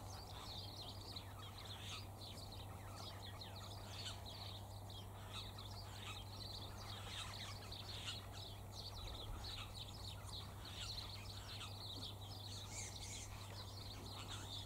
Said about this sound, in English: I wonder what sort of bird that is.